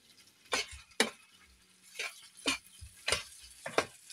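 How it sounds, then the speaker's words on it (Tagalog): Pork sisig mixed with mayonnaise in a hot pan, stirred in about seven distinct scraping strokes at a fairly even pace, close and quiet, with no talking. "hinahalo lang natin para yung mayonnaise is mag-absorb dun sa karne natin"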